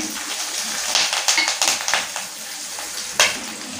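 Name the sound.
mustard seeds, cumin and chilies sizzling in hot oil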